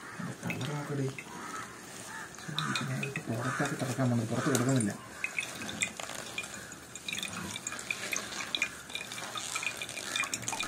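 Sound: herbal hair oil squeezed out and dripping

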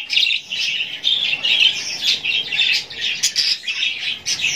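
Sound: cockatiel calls

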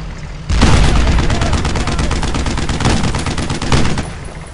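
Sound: gunfire and machine-gun fire, Brothers in Arms: Road to Hill 30 video game

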